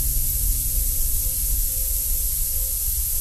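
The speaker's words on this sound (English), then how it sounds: "The sounds you are hearing are the relief valves cycling old air out of the chamber while the compressor cycles new air in." Pressurised air hisses steadily from the relief valves of a vertical hyperbaric dive chamber while the compressor feeds fresh air in. The sound is a continuous, broadband, fairly loud rush with a low hum underneath, and no one speaks.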